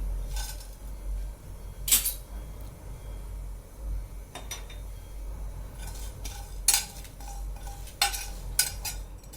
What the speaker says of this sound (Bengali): শুকনো খোলায় ভেজে নেব, শুকনো খোলায় ভেজে নিয়ে গুঁড়ো করে রাখবো।